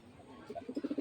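Top-quality racer pigeons cooing close by, a soft series of rhythmic coos growing stronger toward the end.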